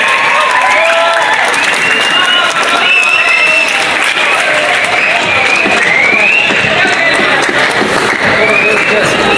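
Sustained, loud applause from a large crowd at a university event in Kotli for poet Tehzeeb Hafi fills the whole stretch, with dense clapping and a few cheers mixed in.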